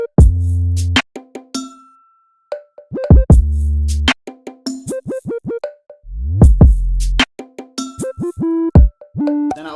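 808 bass in a beat, with deep booming notes that slide in pitch, mixed with bright plucky hits and bell-like tones in a choppy, stop-start pattern with short gaps of silence.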